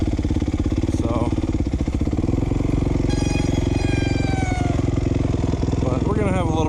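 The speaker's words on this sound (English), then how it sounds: "heading back out to the main track. Just gonna ride it a bit." Motocross dirt bike engine running steadily on a track at Doug Dunaway Memorial Motocross Park, a close, continuous buzzing drone with rising revs partway through, while a rider talks over it.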